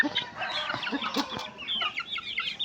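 Young roosters, sons of a chestnut hen, cluck and squawk steadily at close range in a small flock, with faint crowing attempts mixed in and no talking.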